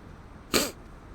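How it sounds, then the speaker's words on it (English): One quick, sharp human sneeze bursts out close to the microphone against a quiet background, then fades at once. "Oh, I gotta sneeze."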